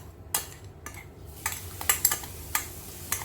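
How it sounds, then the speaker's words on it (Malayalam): A spoon clinks and scrapes against a pan while stirring grated green chilli, ginger and curry leaves frying in hot oil. Sharp metallic taps fall at an uneven rhythm over a soft, low sizzle. "ഓയിൽ ചൂടായതിലേക്ക് പച്ചമുളകും ഇഞ്ചിയും വേപ്പിലയും കൂടി ഗ്രേറ്റ് ചെയ്തെടുത്തത് ഇട്ടിട്ട് നന്നായി മൂപ്പിച്ചെടുക്കാം."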